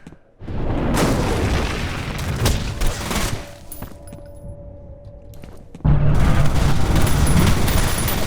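Heavy gunfire in the F.E.A.R. video game as shots are fired at Alma: loud, dense booming bursts that roll into a sustained roar, ease off, then surge again even louder near the end.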